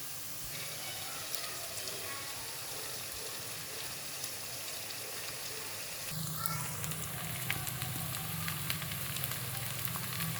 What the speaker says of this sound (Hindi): ये जैसे ही प्याज गोल्डन ब्राउन हुए मैं इसमें लहसुन अदरक का पेस्ट शामिल करने लगी हूँ।